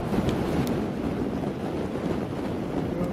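Gusting wind buffets the camera microphone outdoors at a railway diesel gala, a steady, close, low rumbling roar with slight surges and no voices.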